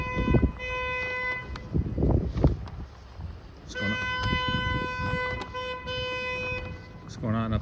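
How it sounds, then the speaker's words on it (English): Car horns honking on a street during an intense Montreal snowstorm: two long, sustained toots, each lasting a couple of seconds, sounding above rumbling traffic and wind, with a voice briefly speaking near the end. "Maybe they were just honking at a stopped car"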